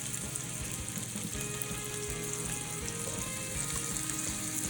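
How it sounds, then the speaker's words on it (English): Shrimp sauté in a pan for a spicy Indian shrimp dish, giving a continuous close sizzle and crackle with small pops, steady and fairly soft throughout, with no talking. "it doesn't take very long to cook shrimp, to saute shrimp"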